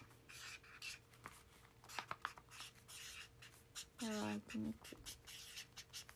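Pen handwriting on paper, faint scratchy strokes in short bursts, mixed with someone speaking softly nearby and a low steady electrical hum.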